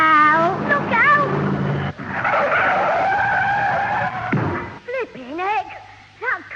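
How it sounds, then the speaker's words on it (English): A car skids with squealing tyres and crashes into a ditch, staged as a radio drama effect; the loud skid runs for several seconds, with voices talking around it. "That car, it's gone straight into the ditch."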